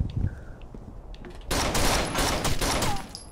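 Gunfire in Rainbow Six: Vegas, with scattered faint shots and game sounds at first, then a sudden loud sustained volley of rapid automatic fire from about halfway on.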